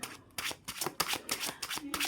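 Tarot cards shuffled by hand in a series of quick, close riffling bursts, rhythmic and fairly soft, heard alone without talk.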